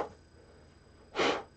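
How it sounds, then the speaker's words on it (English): A short, close puff of breath blows excess sand off a painted tabletop miniature, one breathy burst after a quieter stretch. "blow off the excess sand."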